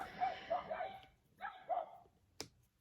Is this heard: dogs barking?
yes